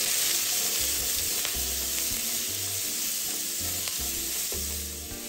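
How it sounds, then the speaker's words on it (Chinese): Onion and minced garlic sizzle in a wok over moderate heat with a loud, steady frying hiss, broken by intermittent scraping and stirring strokes of a spatula and an occasional sharp clink. "再将预先备好的洋葱、蒜末倒入爆香，火不能大"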